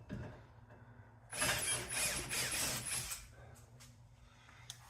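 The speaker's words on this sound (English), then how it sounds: "we're gonna drill some pilot holes because we're going to. Because we don't want this pine to split" A quiet lull gives way to a few seconds of a drill whirring into pine wood for pilot holes, a high grinding buzz, then it stops and faint handling sounds follow.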